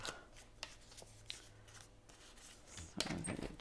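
A paper trimmer slices through a small piece of paper with a few quiet swipes and a short crisp cut at the end, close and alone.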